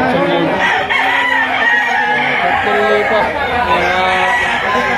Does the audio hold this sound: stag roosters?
yes